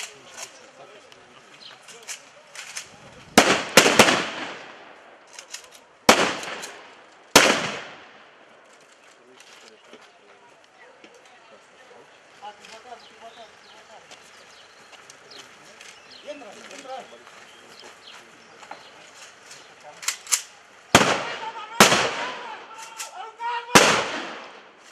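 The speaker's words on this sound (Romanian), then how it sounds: "Se aud mai multe focuri de armă" Gunfire from a Romanian gendarmerie training exercise in rocky terrain near Gura Teghii: sharp, loud single shots and short bursts echo in two clusters, with quieter outdoor ambience and voices talking between them.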